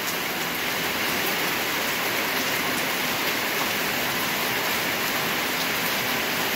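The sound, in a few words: heavy rain falling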